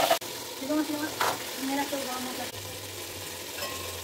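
Mutton sautés slowly over medium heat in a pan, giving a low continuous sizzle with scraping stirring strokes and a couple of soft knocks against the pan.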